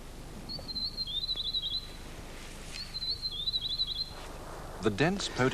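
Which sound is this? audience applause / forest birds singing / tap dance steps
forest birds singing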